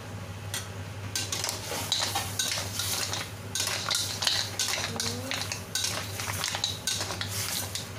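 A utensil clinks and scrapes against a metal pot as green shell mussels are stirred, cooked Chinese style, giving irregular clatters over a low steady hum.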